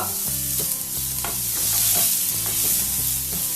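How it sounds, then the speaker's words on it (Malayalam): Finely chopped onion sautés in a pan over a medium flame, giving a steady broad sizzle with stirring scrapes and small pops. The frying sound runs loud and continuous the whole time, with no voices. "സവോള ഇങ്ങനെ പൊടിയായിട്ട് അരിഞ്ഞത് ഞാൻ ഫ്ലെയിം മീഡിയത്തിലോട്ട് ആക്കുക"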